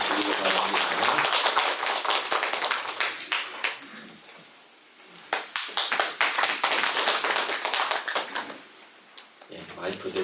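Church congregation clapping during a Sunday worship service, loud dense claps in two bursts with a brief lull between, mixed with some speech.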